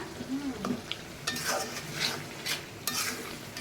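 Fish masala with tomato being stirred and fried in a pan, with scraping spoon strokes at an irregular rhythm over a steady close sizzle.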